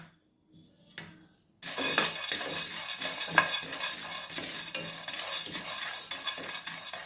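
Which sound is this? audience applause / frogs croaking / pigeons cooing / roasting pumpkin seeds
roasting pumpkin seeds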